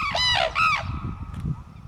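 Sarus cranes at a wetland bird area among lotus fields give two loud, close, bugling trumpet calls in quick succession, followed by quieter background sounds.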